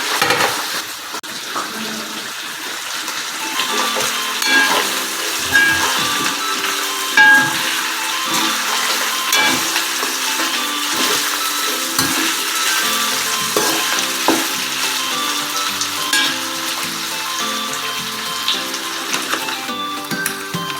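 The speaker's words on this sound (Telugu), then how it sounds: "మనం ముందుగా సిద్ధం చేసుకున్న చికెన్ ఫ్రై పీసెస్ని ఇందులో యాడ్ చేసుకుందాం" Fried chicken pieces stirred into a frying masala for Rayudu-style kodi pulao: a continuous close, crackling sizzle with occasional scraping and clinks of a spoon against the pan, holding steady throughout without speech.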